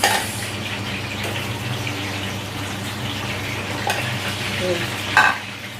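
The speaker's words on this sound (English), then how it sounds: "And I'll be frying the turkey. Fry the turkey." Steady sizzle of turkey frying in a pot fills the clip with occasional scraping and clinks of stirring, a louder clatter near the end.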